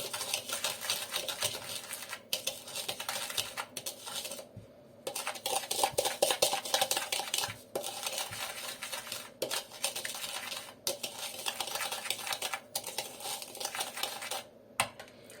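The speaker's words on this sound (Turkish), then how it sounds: "şekerle tuzu ekledikten sonra bir karıştırıyorum hemen" A spoon stirs instant yeast with sugar and salt in a bowl, giving steady scraping and clinking strokes with short pauses. The strokes are close and fairly loud, and no one speaks.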